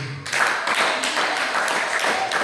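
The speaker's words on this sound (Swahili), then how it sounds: "Tuongeze tena makofi." A church congregation clapping hands together, a dense, continuous patter of many hands at moderate loudness, with no one speaking over it.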